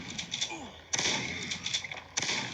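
Shotgun blasts in the zombie survival game Prey Day Survival, fired against rushing zombies in a warehouse: two sharp, booming reports about a second apart, each ringing out briefly, with faint game sounds and brief voice in between.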